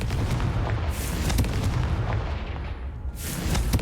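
The Confringo blasting spell in Hogwarts Legacy, a series of booming, rumbling blasts with crackling bursts, heavy and close, rolling on without a pause and without talk.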